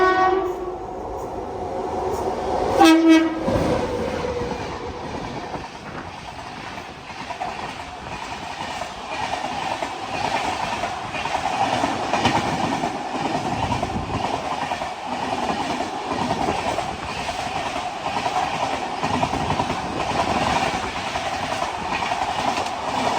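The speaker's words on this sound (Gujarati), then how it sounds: "હજુ પાછી એક ટ્રેન ઓવરટેક કરવા જઈ રહી છે" A train overtakes on the railway line near Than station in Gujarat. A loud horn blast sounds early, then a steady heavy rumble with clickety-clack of wheels on the rails continues close by for about twenty seconds.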